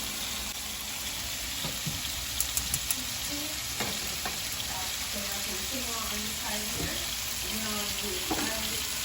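Shrimp frying in a pan for Jamaican-style shrimp fried rice give a steady, close hiss of sizzling oil throughout, broken by a few sharp utensil clicks and stirring scrapes, with a faint voice murmuring briefly near the end.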